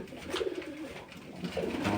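Pigeons in a dovecote coo continuously while fighting over nests, a steady murmuring chorus of overlapping throaty calls close by, swelling slightly toward the end.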